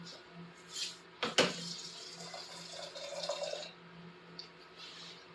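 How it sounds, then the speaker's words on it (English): Water splashes and runs into a cup while microgreen seeds are set up to soak, with a sharp clink near the start and a soft pouring stream that fades out. "And I'm going to fill this cup with water."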